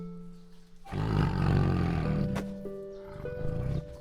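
A roaring tiger in a Korean historical metaverse-style house-building game, a loud sustained growling roar lasting several seconds with a short quieter snarl near the end.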